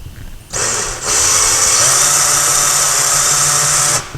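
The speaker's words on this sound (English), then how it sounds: "We're going to drill it very slowly." A power drill starts up and whirs steadily for about three seconds, drilling slowly into a wall and hitting a wooden beam, a loud, close, continuous high-pitched grind before cutting off.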